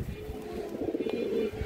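A pair of silver khaki pigeons kept at home give a soft, continuous cooing, a low throaty warble that swells slightly and holds steady, close by with no talking.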